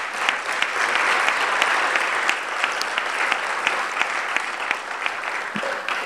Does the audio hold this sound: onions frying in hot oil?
no